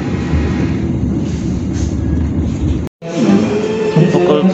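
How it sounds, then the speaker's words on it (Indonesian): The Serayu passenger train rolls into Kroya station with a loud, steady rumble of rail noise that drops out for a moment and then resumes heavier. "Sesaat lagi kereta api Serayu segera tiba di stasiun Kroya."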